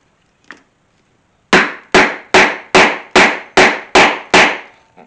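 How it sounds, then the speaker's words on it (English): Eight sharp, evenly spaced mallet strikes on a 5/16 inch leather punch driving through a leather guitar strap, each crack loud and close, preceded by one faint tap. "See how I kind of rotate that punch as I hit it with the mallet."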